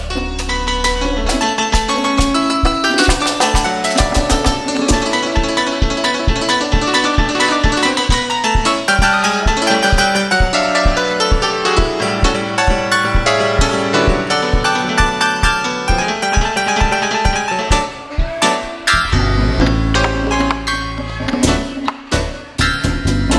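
Live keyboards from a Honduran dance band playing a 2016 concert in Goascorán, rhythmic chords and melody sounding loud and continuous with steady pulsing beats throughout.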